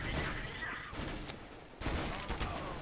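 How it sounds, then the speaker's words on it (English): Rapid bursts of gunfire in the shooter game CS:GO, loud and close, with sharp repeated shots in two main volleys separated by a brief lull. "Let's shoot some people."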